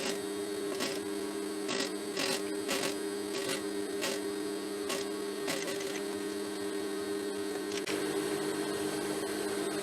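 Domestic sewing machine stitching sewable boning at the dart point of a Victorian corset, a steady mechanical whir with faint rhythmic ticks of the needle running continuously and close by, with no talking.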